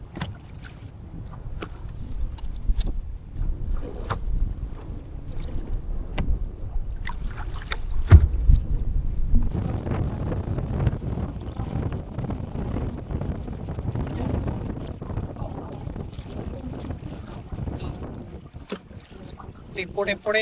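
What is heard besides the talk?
strong wind and waves on a boat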